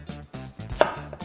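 A knife chops onion into large pieces on a board, with several quick, close, crisp cuts in a brisk, uneven rhythm.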